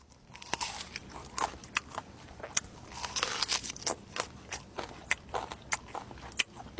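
Someone bites into and chews a large, unfamiliar fruit, giving a series of close, crisp crunching bites with wet chewing between them, rhythmic and fairly loud throughout.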